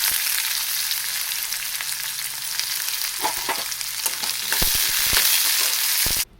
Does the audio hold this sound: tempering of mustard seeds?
yes